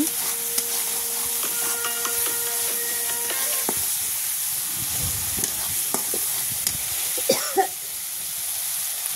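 Spices with salt and turmeric sautéing in hot oil, a close, continuous sizzle with clattering stirs and scrapes of a spatula, with no voices.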